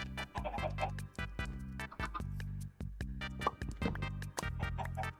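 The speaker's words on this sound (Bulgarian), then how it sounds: "Още една кокошка." Minecraft chickens cluck in repeated short bursts, a rhythmic, fairly loud run of game clucks that carries on steadily with brief gaps between calls and no voices over it.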